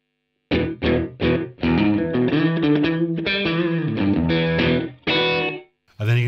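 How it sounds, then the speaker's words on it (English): Electric guitar through a NUX Trident pedal set to a longer tap-tempo delay: a run of bright, distorted picked notes and chords, each trailing into repeating echoes, with a short pause before a final phrase. "then you can have a longer delay set at a tap tempo"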